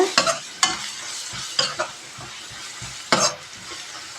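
Egg onion chili fry (kodiguddu ulli karam) being stirred in a pan, with a steady sizzle and several sharp scraping clatters of a spatula against the pan at irregular intervals, close and moderately loud, no voices.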